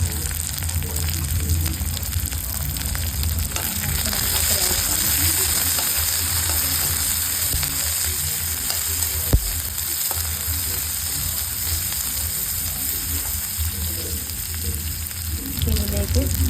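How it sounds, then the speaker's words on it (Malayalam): Small onions and curry leaves fry in hot oil in a pan, a dense, loud, continuous sizzle and crackle holding steady from start to finish with no talking. "അപ്പം നമുക്ക് ചെറിയ ഉള്ളി ഇട്ട് കൊടുക്കാം. കുറച്ച് കറിവേപ്പില ഇട്ട് കൊടുക്കാം."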